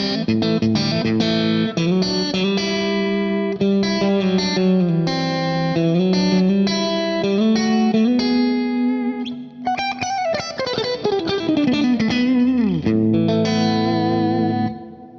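Distorted electric guitar, a James Tyler Dann Huff Black Classic with middle pickup in parallel and neck in series, with chorus-like shimmer plays chords and single notes continuously, with a sliding bend near the end; loud and sustained, no voices.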